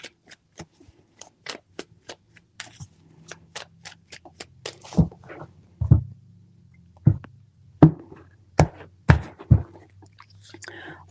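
Tarot cards are shuffled in three short bursts, each a quick crisp riffle followed by soft taps and handling knocks, close and quiet with faint background music and no talk.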